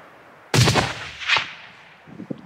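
A single loud rifle shot cracks out close by during a tahr hunt in remote mountain wilderness, followed by an echo rolling back off the slopes and faint movement after.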